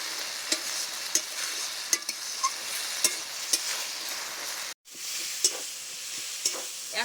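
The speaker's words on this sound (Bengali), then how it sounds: "আর একদম শাকের জলটা মেরে দেবো, শুকনো শুকনো করে দেবো" Spinach is stir-fried dry in a pan for a palong shak chorchori, giving a steady hiss with regular spatula scrapes and taps at roughly half-second intervals, close by, with one brief dropout partway through.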